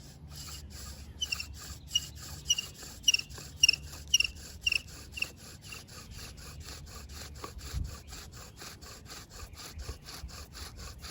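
A bow drill spinning on a Virginia pine board with a T-shirt bowstring gives a rhythmic back-and-forth rasping and squeaking, strokes repeating steadily at close range, a series of sharper squeals midway, no talking.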